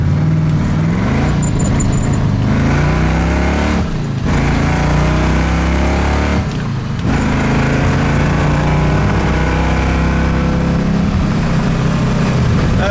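A 1966 Ford Mustang with a 347 stroker V8 and a Demon carburetor drives hard, its loud, close engine roaring continuously with two brief dips as it shifts gears.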